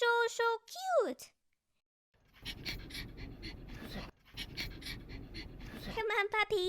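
A cartoon puppy pants in quick, steady breaths for several seconds, close and continuous, broken by a short pause, with a voice speaking before and after.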